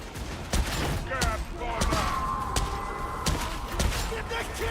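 Heavy shots from an Ogryn's sniper rifle in a video game ring out as a handful of sharp, booming cracks spaced irregularly, with game effects in between and a voice talking over them.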